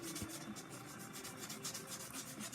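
Quiet, steady rubbing and scraping of a sanding sponge against small glued parts, repeated strokes in a soft, even rhythm.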